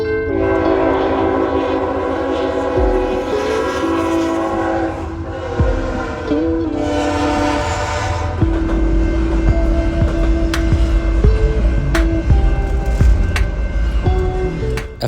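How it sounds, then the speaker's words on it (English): A BNSF intermodal freight train passes in Santa Fe Springs, sounding a long, loud horn early on, then a close, heavy rumble with sharp clanks and wheel clatter as the cars roll by. "I would get this front view of this BNSF intermodal train"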